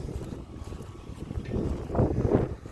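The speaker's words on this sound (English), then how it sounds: "Wind's blowing a little bit, so I don't know if that's gonna catch in the video" Wind gusting outdoors into the microphone beside a shop, a broad low rumble that swells and grows louder toward the end, with no talk.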